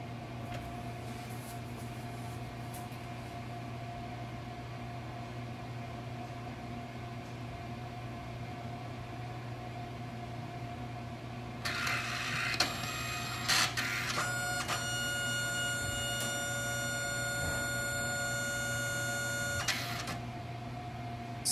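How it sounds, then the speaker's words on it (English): A Canon Selphy CP1300 compact photo printer starting up: a steady low mechanical hum, then a loud buzzing whir with several clicks that runs for about eight seconds before cutting off, heard alone and up close. "now I'm going to restart it and you can hear the sound"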